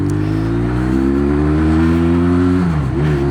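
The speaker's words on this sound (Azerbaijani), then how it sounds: "mühərrikin zadı möhtəşəm bir gürültüsü var da" A Jiangmen Nav 500 motorcycle engine runs loud and close with a deep, steady throbbing drone, rising slightly in pitch and then dipping briefly near the end.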